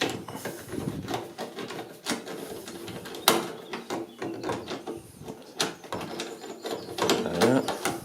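Ratcheting clicks and metallic taps of a 7 mm socket wrench loosening a nut on a Candy tumble dryer, irregular bursts of close mechanical ticking and rattling, no voices.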